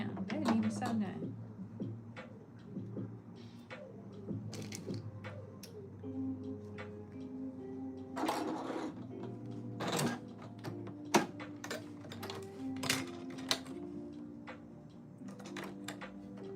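A sewing machine runs in short uneven bursts of rapid ticking and clattering, mixed with scattered knocks and handling noises, fairly quiet overall.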